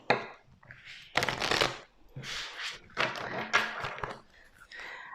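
Tarot cards being shuffled by hand at a reading table, several close rustling riffles and soft slaps in uneven bursts with brief pauses between, quiet and without talk.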